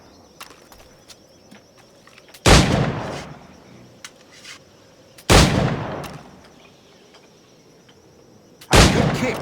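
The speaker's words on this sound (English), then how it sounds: "Pull off a few shots if you like, get a feel for it." Three loud, close pistol shots from Assassin's Creed IV Black Flag, spaced a few seconds apart, each with a sharp crack and a decaying tail over a quiet ambient bed.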